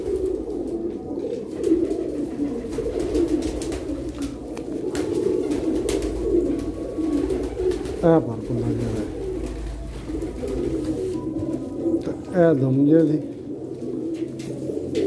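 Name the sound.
pigeons cooing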